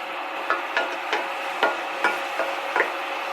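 A utensil scraping browned bits off a pan bottom while deglazing with red wine, about eight sharp rhythmic scrapes and knocks, close and clear with no talking.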